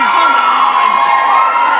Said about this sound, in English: the crowd comes alive for Silly Billy